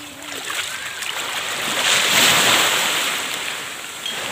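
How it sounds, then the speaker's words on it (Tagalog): Strong ocean waves rolling onto a crowded beach, a loud, continuous roar of surf that swells to a peak midway and eases off, with wind buffeting the microphone. "nakikibaka kami rito sa malakas na mga alon"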